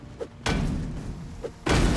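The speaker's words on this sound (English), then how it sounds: "Then I start breaking down another unit door." A unit door being broken down in the video game Project Zomboid: two heavy, booming thuds about a second apart, each ringing briefly.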